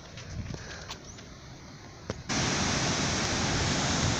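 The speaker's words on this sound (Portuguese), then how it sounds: "mostrar ali a parte de cima da aqui da cachoeira, onde tá correndo água" A waterfall on the Rio do Sono roars with running water as a steady broadband rush, with a few faint knocks early before the flow suddenly swells louder and fills the rest of the clip.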